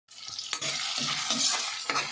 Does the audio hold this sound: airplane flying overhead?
no